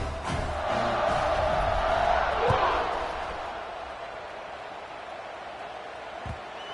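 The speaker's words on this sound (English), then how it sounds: "this crowd is buzzing after that last score" Football stadium crowd buzzing after a score, a broad steady roar from a distance that swells early and then eases to a sustained murmur, with a few faint thumps.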